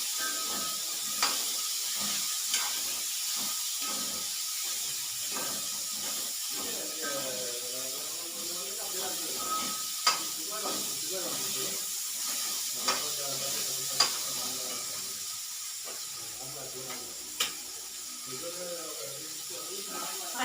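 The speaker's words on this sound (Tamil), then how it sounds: "அதை எண்ணெயிலேயே நல்லா வதக்கணும்." Bitter gourd sautéing in oil in a pan, a continuous close hiss of frying with scraping stirs and occasional sharp clicks of a utensil against the pan, alone and steady throughout.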